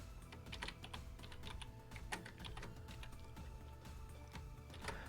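Rapid, irregular clicks of typing on a computer keyboard fill the short stretch, close and fairly quiet, with no talking.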